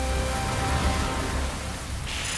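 A steady, dense downpour of corrosive acid rain hisses evenly across the whole stretch, heavy and close with no breaks and no voices.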